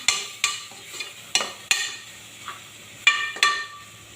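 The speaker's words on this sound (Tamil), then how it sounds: "மஞ்சள் பூண்டு கொஞ்சம் போட்டாச்சு. நல்லா கிளறி விடலாம்." A spoon knocks and scrapes against a frying pan while turmeric and garlic are stirred for tomato rice, giving sharp, irregular clinks over a faint background sizzle, close and with no talking.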